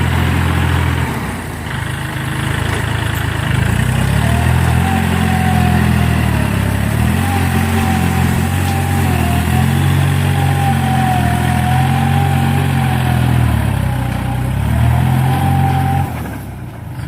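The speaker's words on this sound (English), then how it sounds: "he's just going to clear this up with a few passes of the tractor" A tractor makes several passes to clear a flooded rice field, its engine a steady, close mid-pitched drone that holds for about sixteen seconds, with slight rises and falls in revs and no talking.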